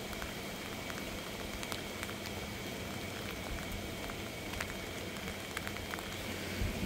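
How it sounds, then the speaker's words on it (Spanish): Steady rain falls outdoors in gusty wind during a tornado alert, making a dense, continuous hiss and patter with scattered close drips throughout. "Miren cómo se ve que está lloviendo."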